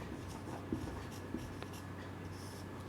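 Writing a definition on a board during a physics lesson: faint scratching strokes with a couple of small taps, quiet and close, with no talking.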